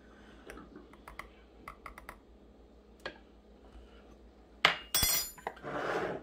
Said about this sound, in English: And put this back together.